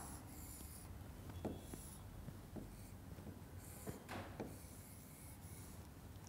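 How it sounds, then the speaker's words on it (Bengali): Someone writes a Bangla word by hand, with faint scratchy pen or chalk strokes in short bursts against a quiet room hiss. "তাহলে আমরা এখানে লিখছি শব্দটিকে"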